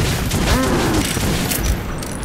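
Gunfire in the video game Metro 2033, several sharp shots and booms in quick succession with echoing tails, loud and close.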